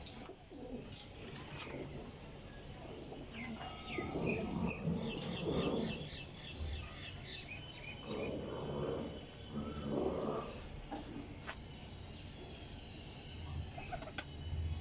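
Golden teddy flying pigeons of Kasuri stock coo in repeated soft, throaty bursts, with scattered chirps and a brief wing flutter among them, fairly close and calm against a quiet background.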